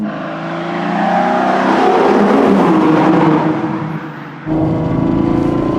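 A Ferrari Purosangue V12 with a Novitec X-pipe and flap exhaust revs hard up close, a loud rising howl held for a few seconds, then drops sharply and picks back up into a strong steady roar.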